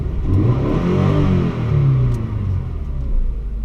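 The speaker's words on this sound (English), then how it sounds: "I'm gonna rev it for you" Scion FR-S fitted with a TRD intake revs hard, heard from inside the cab: a loud, steady low engine drone that swells and eases in repeated surges, with no talking.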